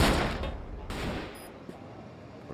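Gunfire in the Crossfire shooter game, a dense loud burst at the start fading into quieter scattered shots and rumble over a couple of seconds.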